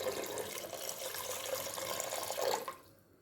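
Water pours steadily from a tap into a pot of beef for egusi soup, a continuous bright splashing stream for nearly three seconds that cuts off abruptly, leaving near silence.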